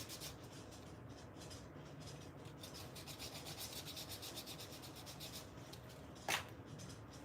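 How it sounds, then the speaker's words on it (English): Sandpaper scuffs the surface of small buttons for a junk-journal envelope, a steady dry rasping with quick rhythmic strokes, fairly quiet and close, ending in one brief sharper scrape. "use my sandpaper to sand up the buttons"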